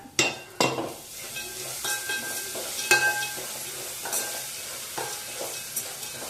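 Seasoning for tamarind rice (pulihora) sizzles steadily in hot oil in a pan, with a spoon repeatedly scraping and clinking against the metal as it is stirred, close and continuous without speech.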